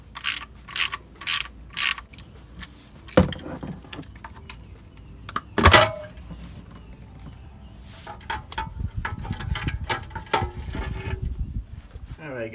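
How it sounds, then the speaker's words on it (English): Ratchet clicking as 10mm transmission pan bolts are loosened on a Toyota Lexus automatic transmission, short bursts of close mechanical clicks with a couple of sharper knocks, followed by a faint low rumble. "Next thing you want to do is remove all these bolts. 10mm bolts, and there's 18 of them."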